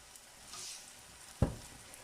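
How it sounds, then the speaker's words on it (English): A soft sizzle of ripe plantain frying in a pan rises briefly, followed by a sharp clack of a utensil against the pan. "Go there, try frying ripe plantain."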